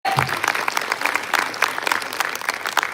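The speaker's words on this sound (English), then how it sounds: "Give out a huge round of applause for the friendship." A lecture audience breaks into loud, sustained applause, dense clapping that rises sharply and continues evenly for a few seconds.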